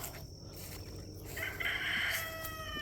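A rooster crows once, loud and drawn out, rising into a strained, ringing call over a quiet outdoor hum.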